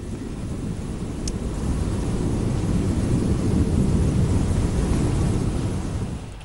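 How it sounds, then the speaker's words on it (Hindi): Indian Air Force fighter jets and helicopters fly overhead, a loud, continuous roar that swells and then fades slightly, with no speech. "एक के बाद एक फ्लाइट, हेलीकॉप्टर, सब वहां पर फाइटर जेट्स उड़ान भर रहे हैं"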